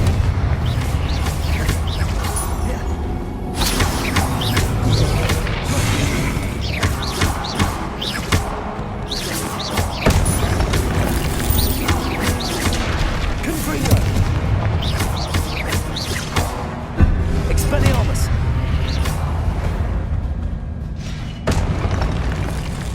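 Spell explosions from Confringo cast in Hogwarts Legacy, a series of booming blasts and thuds going off throughout, loud and close, mixed with game music and sound effects, with speech heard over parts of it.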